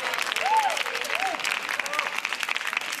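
Audience applause at a circus show: dense, steady clapping throughout, with a voice briefly rising over it early on.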